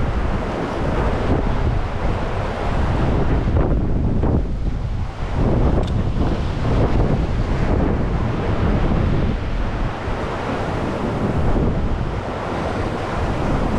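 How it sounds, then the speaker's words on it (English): Ocean waves crash against coastal rocks in strong wind, a loud, continuous roar of surf with gusting wind buffeting the microphone and no talking. "Gotta be careful with these waves."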